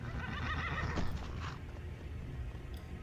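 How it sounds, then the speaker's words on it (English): A horse in Skyrim gives a loud, close whinny, followed by snorting and the clip-clop of hooves under a constant game ambience. "You just sneak up on them, ride around, they throw you off a couple times, and then you have a horse."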